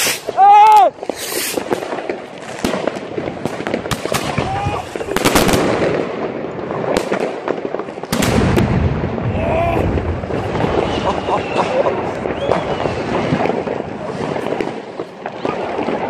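New Year's Eve firecrackers burst outdoors in a series of loud, sharp bangs spaced a few seconds apart, with crackling and wind rumble between them and voices talking nearby.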